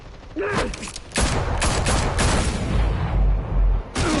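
Sustained gunfire in the Batman Telltale game, a loud dense barrage of shots running almost continuously for several seconds, opening and closing with brief spoken lines.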